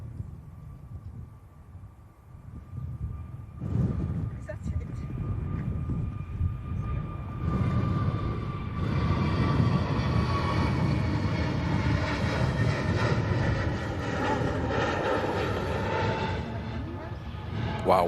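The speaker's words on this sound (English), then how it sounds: "Jet 2. Rotating super early." A Jet2 airliner taking off at Manchester Airport builds from a distant whine into a loud, sustained engine roar that holds for many seconds, with a voice talking over it.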